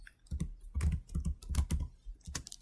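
Rapid, uneven typing on a computer keyboard, close and fairly loud, with clustered clicks across the whole stretch and no talking.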